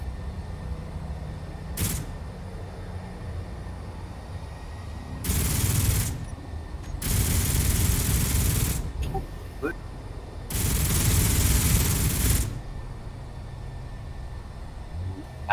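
Automated turrets fire on a player in a video game during an attack on a large allied base, sounding as three loud, sustained bursts of gunfire with brief single shots between them.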